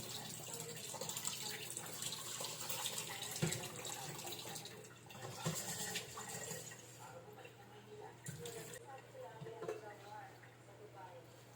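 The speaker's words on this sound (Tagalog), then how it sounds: "2 beses kong hinugasan yung bigas." Tap water runs steadily into a pot while rice is washed twice, a soft continuous splashing with faint clinks, fairly quiet and close.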